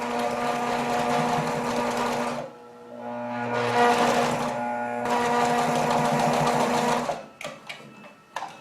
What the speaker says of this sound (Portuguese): Eu vou fazer a costura pelo lado avesso, que fica mais fácil da gente acompanhar o risco do nosso molde.